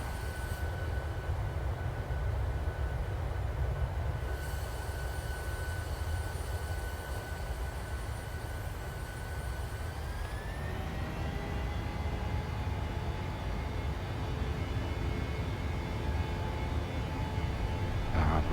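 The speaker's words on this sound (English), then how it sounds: "you'll hear the engines firing up" Boeing 737-600 engines spool up in the PMDG flight simulator, a steady loud turbine roar with whining tones that rise in pitch about halfway through as the engines come up to speed.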